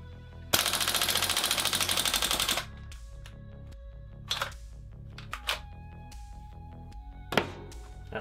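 A Umarex VFC MP5 SD3 gas blowback airsoft gun fires a full-auto magazine dump, a loud rapid rattling burst of about two seconds, followed by scattered mechanical clicks and clacks from handling the gun.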